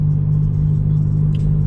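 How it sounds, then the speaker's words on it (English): Inside a BMW 1 Series cruising on German roads, a steady low engine and road rumble drones continuously, close and loud, with no talking. "we're driving in the nice, you know, roads of Germany right now"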